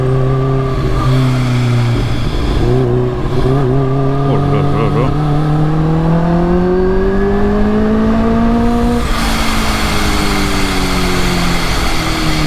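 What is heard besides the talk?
Kawasaki H2 motorcycle with full tuned exhaust revving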